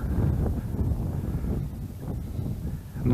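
Strong, steady wind roars across an open winter pond shore lined with oaks, a continuous low buffeting rush with gusty swells and no voices.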